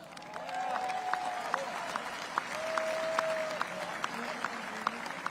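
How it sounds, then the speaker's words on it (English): An audience at a celebration event gives a round of applause. The clapping is steady and moderate in level, with a few sharper individual claps and faint voices underneath. "All right, they deserve a round of applause."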